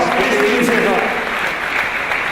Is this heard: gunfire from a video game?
no